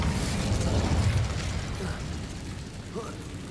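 The Incendio fire spell cast in Hogwarts Legacy: a dense, roaring whoosh of flame with a low rumbling burst at the start, loud and sustained, fading slightly with faint crackles toward the end.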